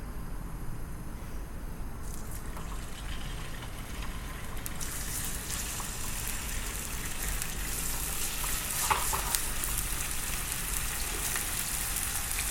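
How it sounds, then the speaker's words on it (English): Salmon sautéing in a frying pan, a steady, dense sizzle and crackle that swells after the first couple of seconds and holds at a constant level with occasional louder pops, with no talking. "Start to saute salmon."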